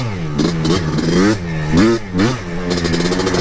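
Ported two-stroke Yamaha Blaster engine revs loudly up and down in several close, rising and falling bursts with a raspy, buzzing tone.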